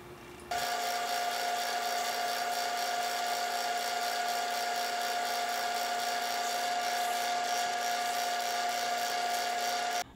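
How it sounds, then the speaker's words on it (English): A wooden bottle opener being sanded while spinning on a lathe: a steady, continuous high whine with a constant tone that starts abruptly and holds evenly throughout, close and fairly loud, with no talking. "when we're sanding it on the lathe, it's not going with the grain"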